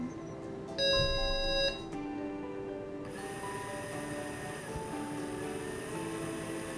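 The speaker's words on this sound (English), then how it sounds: "The noise you can hear is the air pump." A DustCount 9000 dust monitor's air pump runs as a steady, faint mechanical hum, preceded by a brief electronic beep tone as the unit powers on.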